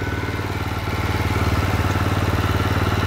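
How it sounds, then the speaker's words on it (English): A small greenkeeping mower engine runs steadily after a cold start with the choke switched off, a loud close chugging rhythm that firms up slightly partway through, no voices. "Now the engine's running."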